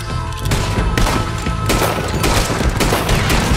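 Heavy, loud gunshots in Red Dead Redemption 2, several booming blasts in quick succession with reverberant tails filling the space.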